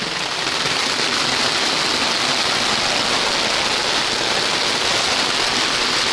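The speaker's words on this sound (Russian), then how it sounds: "Ты сам дождь вызвал" A dense, steady roar of heavy rain at a dacha fills the whole stretch, loud and unbroken, with no voices.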